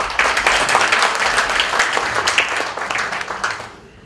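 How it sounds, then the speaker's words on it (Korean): An audience at a Kaesong Industrial Complex briefing claps for a guest being introduced, a short burst of applause that starts strongly and tapers off within a few seconds. "박수를 맞아주시기 바랍니다."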